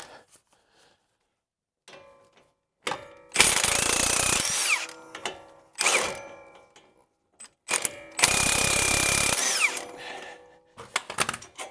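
A power tool works loose a 21 mm front shock absorber bolt on a Mercedes W163, with two long, loud whirring bursts and several short ratcheting spurts between quiet gaps.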